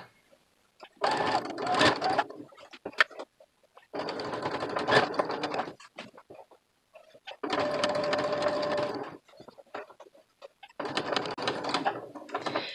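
A sewing machine stitches gathered fabric on a cinch sack in four loud, close bursts of rapid whirring, each lasting a couple of seconds and separated by short silent pauses.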